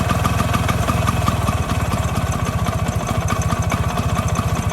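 A Bajaj Priya 150cc air-cooled two-stroke scooter idles close by with a steady, rapid, buzzing putter. The engine's fan and coil sit together, and the uneven firing pulses continue alone without talk.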